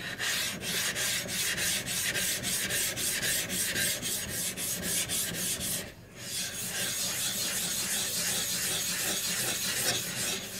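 A Japanese natural sharpening stone is rubbed with water to raise a slurry, giving a continuous close gritty rasping in fast back-and-forth strokes, briefly pausing midway before resuming, with no talking.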